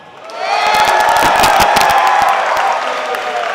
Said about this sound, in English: I would like a round of applause because there is no more split screen